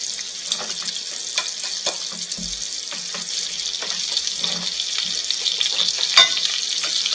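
Hanger steak sizzles as it browns in a pan, a continuous crackling hiss broken by sharp spitting pops and a few soft knocks, heard close up with no talk.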